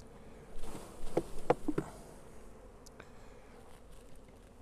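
Honeybees buzz around an opened hive during a swarm-control split. Several close, loud passes stand out against a faint, constant background hum from the colony.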